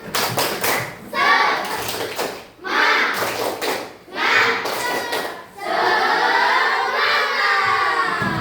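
A class of trainee teachers claps and chants "Tepuk semangat" together in bursts as an icebreaker, with short pauses between rounds of rhythmic clapping and voices.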